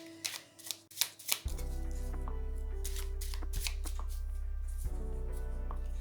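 Small tarot cards being shuffled by hand: several crisp riffling, slapping bursts in the first second and a half, then a steady loud low hum runs beneath a few further faint card flicks.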